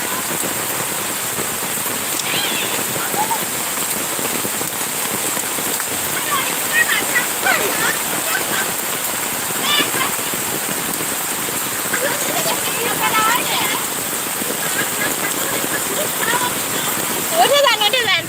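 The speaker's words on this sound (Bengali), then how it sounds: "প্রচুর পরিমাণে বৃষ্টি হচ্ছে।" Heavy rain pours down in a village setting as a dense, steady hiss of drops hitting surfaces, close and loud throughout, with occasional splashes and no let-up.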